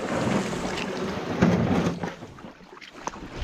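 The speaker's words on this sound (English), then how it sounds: "as far as we're gonna make it in the boat" Small boat moving up a narrow tidal brook in a bay, a continuous rushing wash of water and hull noise with wind buffeting the microphone, fairly close and steady.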